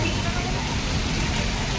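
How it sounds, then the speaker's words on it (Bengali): Heavy rain pours steadily outside a hotel on MG Road in Gangtok, Sikkim, a dense, continuous hiss and patter filling the scene evenly from start to finish. "যা বৃষ্টি পড়ছে একদম পুরো বৃষ্টি পড়ছে"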